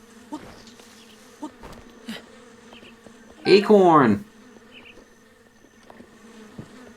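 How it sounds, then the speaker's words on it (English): Bees in the video game Zelda: Breath of the Wild make a loud burst of buzzing and rising chirps about half a second long in the middle, between soft footsteps and game sounds, while a person speaks briefly. "And the bees!"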